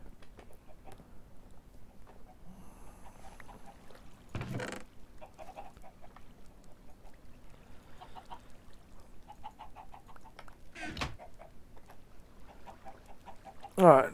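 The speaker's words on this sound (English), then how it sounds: "How hard is it to spawn a couple of chickens?" Chickens in the video game Minecraft give soft, scattered clucks over a quiet background, with two sharper, louder bursts breaking in partway and one more at the very end.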